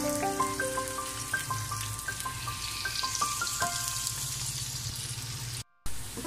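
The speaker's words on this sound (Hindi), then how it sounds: "प्याज डाल के इनको मैं 2 से 3 मिनट के लिए थोड़ा सा मैं इनको घी के साथ फ्राई करूंगा" Chopped onions sizzle softly in hot ghee, a quiet steady crackling hiss with faint tonal beeps layered over the first few seconds and a brief dropout near the end.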